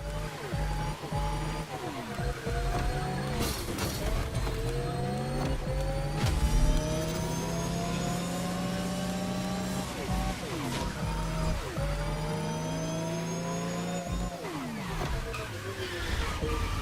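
An electric car with nitrous drives in The Crew: Motorfest, its whining motor pitch rising and falling through repeated accelerations, with occasional bumps and tire noise and some talk underneath.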